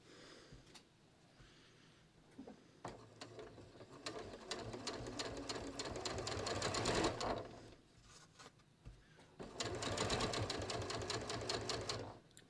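A sewing machine stitching a torn neckline binding back together on a ready-to-wear top, running in bursts of rapid rhythmic needle clatter that speed up and pause, close and fairly quiet, with no talking.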